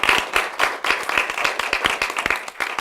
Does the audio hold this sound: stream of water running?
no